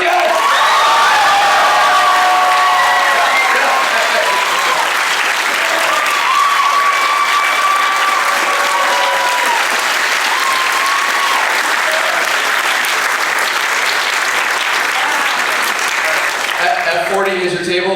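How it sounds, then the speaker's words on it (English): An Anime Expo convention panel audience gives loud, sustained applause with cheering, whoops and scattered shouts from a large crowd, with voices mixed in under the clapping until it thins out near the end. "Everybody, please give a huge round of applause for Mike Lucas!"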